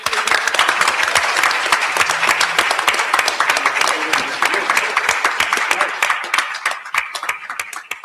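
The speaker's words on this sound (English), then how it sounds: "We have a round of applause" Sustained applause from a conference audience, dense and steady clapping that carries on for several seconds before thinning out toward the end, with a few voices faintly underneath.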